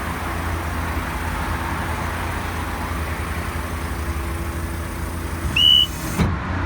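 A mobile crane lowers its boom carriage to a steady engine drone, with a short high beep near the end followed by a low thud.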